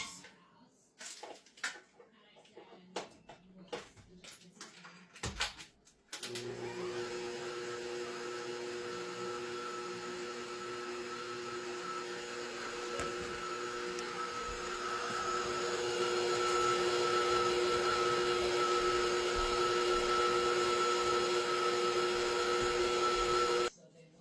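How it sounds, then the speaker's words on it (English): A kitchen machine kneads homemade Italian herbs and cheese bread dough with a steady motor drone and hum that grows louder partway through, following some scattered clatter and knocks at the start. "when you're done kneading it in the machine for about 5 minutes"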